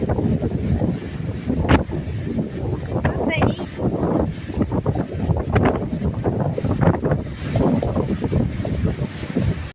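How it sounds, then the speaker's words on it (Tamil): Strong wind buffets the microphone in continuous rough gusts with a wash of rain-like noise during a rainstorm in Theni, Tamil Nadu, while someone talks over it. "மழை இப்போ குறைஞ்சிருச்சு. இது பாருங்க, காற்றும் குறைஞ்சிருச்சுங்க."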